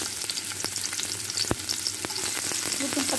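Onions drop into hot oil and fry with a dense, continuous sizzle, punctuated by a few sharp clicks and scrapes of stirring, close and steady throughout.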